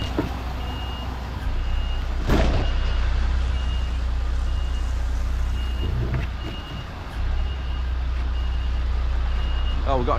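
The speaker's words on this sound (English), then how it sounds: "Oh, we've got a truck down here already." A truck reverses on a road during a police road closure, its reversing alarm beeping repeatedly over a continuous low engine rumble with occasional air-brake hiss.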